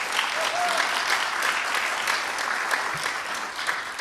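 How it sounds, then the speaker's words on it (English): A room full of people at a conference claps steadily, a dense even wash of applause with a few faint whoops or voices mixed in. "So will you give Mia just another round of applause?"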